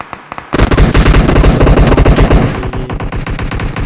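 Rapid automatic gunfire in the PUBG Mobile battle royale game erupts after a brief quiet start, loud bursts rattling densely and continuously for about three seconds.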